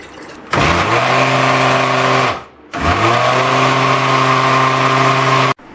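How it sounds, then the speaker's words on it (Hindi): A kitchen blender whirs through yogurt and water for lassi in two loud bursts, its motor whining up to a steady pitch, cutting out briefly, then running again before stopping abruptly. "सबसे पहले दही को लेकर ब्लेंडर में डालकर उसको पानी के साथ ब्लेंड कर लेंगे।"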